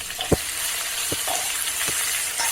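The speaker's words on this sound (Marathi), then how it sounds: "जो आपण मसाला आता वाटून घेतलेला आहे तो आपण टाकू आणि भाजून घेऊ" Ground spice paste fries in oil with curry leaves for a steamed cabbage bhaji. A close, steady sizzle runs throughout, broken by a few sharp stirring scrapes.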